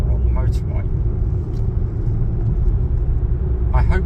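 A car joins the M1 motorway in steady road noise, with a constant low engine and tyre rumble and brief faint higher sounds on top.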